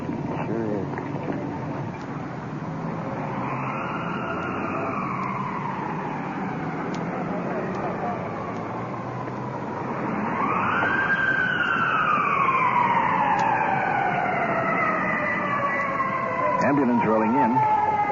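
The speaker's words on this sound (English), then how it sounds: "Ambulance rolling in." Ambulance siren in an old-time radio crime drama, a loud sweeping wail that rises and falls, swelling nearer and louder partway through as the vehicle rolls in.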